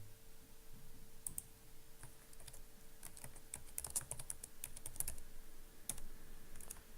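Customer information is typed on a computer keyboard, a steady run of light, irregular key clicks with occasional louder taps, close up over a faint background hum and without speech.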